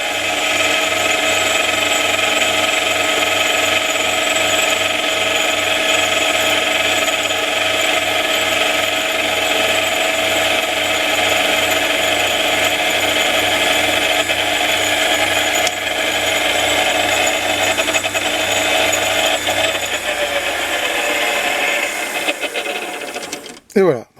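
A metal lathe takes a finishing pass, a loud steady whirring hum with a cutting whine that runs evenly for about twenty seconds, then winds down and stops.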